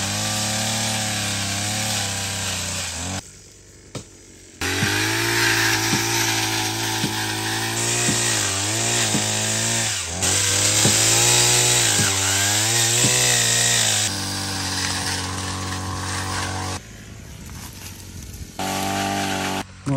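A saw cuts firewood in a forest clearing, its motor droning steadily and rising and falling in pitch as it bites into the wood. The cutting runs for about fifteen seconds, with brief pauses near the start and toward the end.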